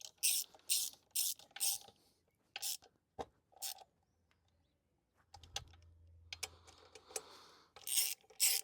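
A ratchet nips up bolts on a Renault Clio 172/182 in short bursts of sharp, close clicking. Quiet pauses separate the bursts, and a low rumble and faint murmur sit in the middle.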